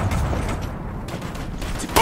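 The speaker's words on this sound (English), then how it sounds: "We're taking heavy fire!" Rapid gunfire and booming explosions in the military shooter game Operation Flashpoint: Red River, heard as a dense, loud rumble of shots with a sharper burst at the end.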